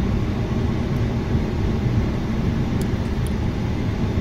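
Steady low rumble of a Jetstar Asia airliner's engines while taxiing to the gate at Singapore, a continuous broadband drone with no talk.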